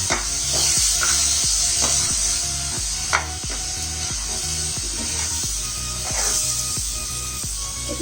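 A spoon scrapes and stirs grape barfi mixture in a pan over a low gas flame, with steady rhythmic strokes against a soft continuous sizzle, close and alone.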